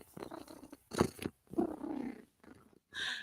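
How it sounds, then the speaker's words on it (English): A contented female house cat purring, a soft rumbling texture broken into short bursts with pauses, close to the listener and with no talk over it. "if Cat is purring, Cat is a happy girl"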